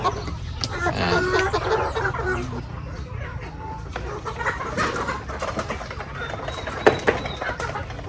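Caged backyard chickens cluck and squawk steadily nearby, with a voice talking over the birds throughout.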